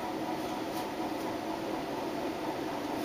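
A 1981 Nadair 120 cm ceiling fan on a ball-and-socket mount runs with a slight wobble, giving a steady, soft whooshing hum with no breaks.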